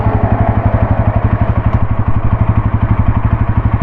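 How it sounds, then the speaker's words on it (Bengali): A Bajaj Pulsar NS 200 motorcycle idles close by after being started, its engine thumping in a fast, even rhythm with slight mechanical clatter, loud and alone. "এই স্টার্ট দিয়ে দিলাম"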